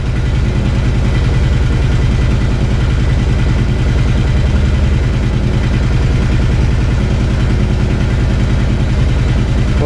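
A motorcycle engine idles steadily during a regulator and stator test with the lights switched on, a loud, close, even mechanical chug that runs unbroken for about ten seconds with no talking.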